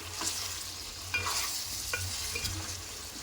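Ginger garlic paste and turmeric frying in a pot for a country chicken curry, stirred with a ladle in a few scraping strokes over a faint steady sizzle, near and without talk.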